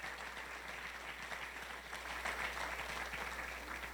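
Wedding guests clap during a father-of-the-bride speech, a soft, steady patter of applause from a room of people that swells slightly toward the end.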